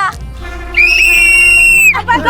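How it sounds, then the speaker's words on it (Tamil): A whistle blown hard and loud in a single sustained shrill blast lasting about a second, with shouting voices just before and after. "டேய் விசில் ஊதுங்கடா."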